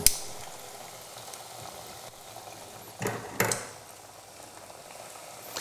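Churros frying in oil in a pan, giving a steady soft sizzle and bubbling with a couple of louder clatters partway through, close and moderately quiet.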